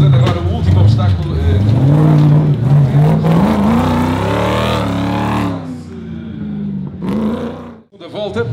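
A 4x4 vehicle engine revs and strains as it climbs an obstacle at an urban off-road trial in Penafiel, loud and rising in pitch, with a commentator's voice heard over it before the revs drop away.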